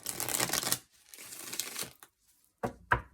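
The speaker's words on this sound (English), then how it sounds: "I'm going to shuffle again now because I saw the cards there." Tarot cards are shuffled by hand, close and crisp, with a long riffling burst, a softer second pass, then two sharp quick snaps of the deck, separated by near-silence.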